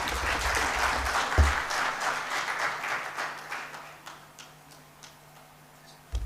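Applause after a speech at a national stakeholders' dialogue on constitutional reforms, a broad clapping wash that gradually dwindles into sparse, separate claps, with a low hum underneath.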